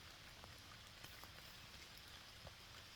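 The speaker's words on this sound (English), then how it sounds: "It's raining. You can probably hear it now." Rain falls steadily outside, a faint, even wash of patter with occasional sharper drips and no voices.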